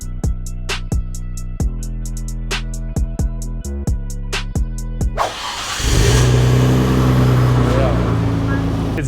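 After a run of sharp rhythmic clicks, the RB26 engine of a Nissan Skyline R34 GTR fires up and holds a loud, deep, steady rumble through its new exhaust.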